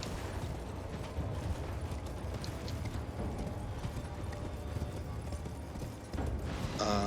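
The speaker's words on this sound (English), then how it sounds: "Somehow I am on my horse and running." Steady rapid hoofbeats of a galloping horse in Elden Ring with clinking gear, continuous and even, under a soft background of ambient game sound.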